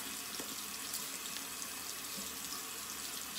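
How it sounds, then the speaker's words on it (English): Water from a bathroom tap runs steadily into a sink for face washing, an even close-up hiss and splash with no voices. "Put water on."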